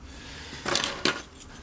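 A ring holding about fifteen keys gives two short metallic jangles close by, with quiet room tone around them and no talk.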